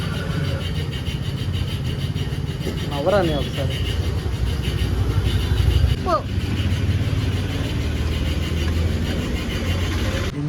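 A motorcycle engine starts and settles into a steady idle after a carburetor is fitted, a rough mid-pitched running sound throughout, with someone talking over it.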